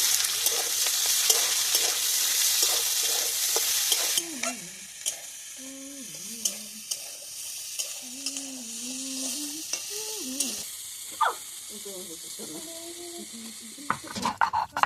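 Onions frying in a wok with dried red chillies, bay leaf and five-spice tempering, a steady sizzle with stirring clatter that fades after the first few seconds, while a voice talks over it.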